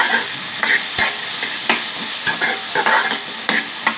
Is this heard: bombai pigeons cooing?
no